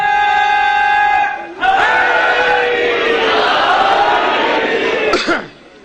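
A large crowd at a majlis bursts into a loud, massed chant of a slogan that fills the hall for several seconds after a brief sustained tone, then cuts off abruptly.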